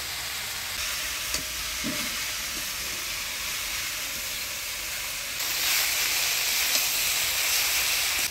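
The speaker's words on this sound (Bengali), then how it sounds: "শাকটা সব মশলাপাতি দিয়ে নাড়াচাড়া করে নিলাম" Water spinach frying in a pan with ground coriander, cumin, ginger paste, turmeric and salt, giving a steady sizzling hiss with faint stirring scrapes that grows louder and brighter partway through; no talk.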